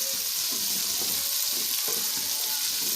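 Green chillies and ginger-garlic hit softened onions in hot oil for a fish-head curry, giving a steady, close hiss of sizzling with faint stirring scrapes throughout.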